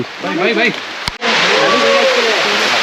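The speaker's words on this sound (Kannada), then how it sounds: "ಮಳೆ ಜೋರಾಯ್ತು ಗುರು" Steady heavy monsoon rain hisses throughout a motorbike ride near Dandeli, with a person talking over it at first and a sharp knock midway.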